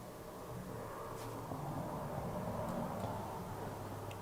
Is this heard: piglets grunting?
no